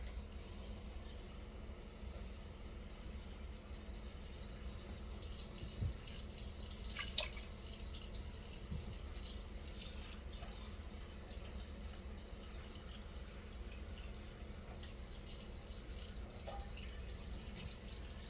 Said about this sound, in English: I'm going to go ahead and add my other 2 cups of water